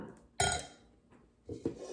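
A big cooking pan for soup is handled in a kitchen, giving one sharp metallic clank followed by a couple of softer knocks and clinks, close and fairly quiet.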